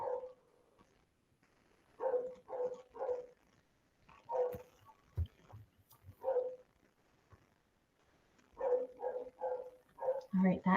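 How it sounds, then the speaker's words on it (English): Short bursts of a dog barking in a quiet room, several clusters of yaps at a moderate distance, with little else around them. "Susan, can you hear the doggy?"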